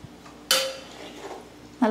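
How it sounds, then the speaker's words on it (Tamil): Sago being stirred into payasam in a pot, two sharp metallic clinks of a spoon against the vessel about a second apart, with faint scraping between them. "நல்லா கிளறி விடுவோம்."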